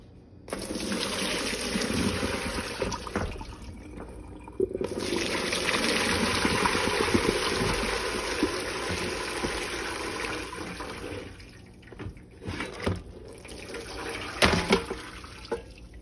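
Cooked cabbage is drained in a kitchen sink. Water pours and splashes steadily for several seconds into the basin, then eases into a trickle with brief gurgles near the end, and nobody speaks.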